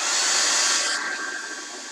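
A hair dryer blowing steadily on homemade washi tape, a loud close airy whoosh that drops slightly in strength partway through, with no talking.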